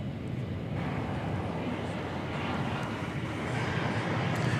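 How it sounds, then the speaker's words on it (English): A United Airlines Airbus A319 airliner arriving from Denver touches down on a runway at DFW Airport, heard as a steady, broad rumble of jet engine and rolling noise with wind buffeting, holding level throughout without distinct peaks. "Got United Airlines Flight 578 coming in from Denver, an Airbus A319. Just catch the touchdown of that plane."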